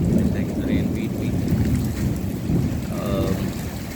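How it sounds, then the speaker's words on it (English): Heavy rain pours steadily during an evening walk, with low rolling thunder rumbling through most of the stretch and a faint voice briefly audible near the end. "I don't think the rain is stopping anytime soon"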